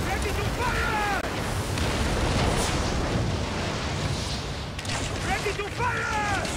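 Ship weapons firing during a naval battle in Assassin's Creed Origins, heard as a continuous heavy rumble of booms and blasts under shouted voices for the whole stretch.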